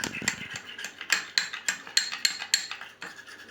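A spoon stirs potato starch in a bowl for a homemade face serum, making quick rhythmic clinks and scrapes roughly three to four times a second. The sound is close and clear, with no voices.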